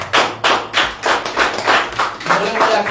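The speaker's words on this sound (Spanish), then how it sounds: "Dense el aplauso fuerte aquí." Congregation at a church service breaks into loud applause, a dense wash of many hands clapping in pulsing waves, close and full, with voices mixed underneath.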